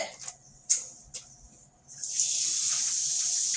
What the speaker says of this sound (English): I'm going to wash our hands.